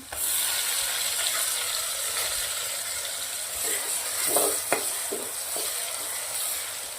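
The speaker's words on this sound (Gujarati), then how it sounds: "બે મિનિટ જેવું સંતળાવા દેશું ડુંગળી અને આદુ લસણ સંતરાઈ ગયા છે" Finely chopped onion with crushed ginger and garlic sautéing in a pan for Kathiyawadi brinjal bharta, a steady close hissing sizzle with a few spatula scrapes and knocks in the middle.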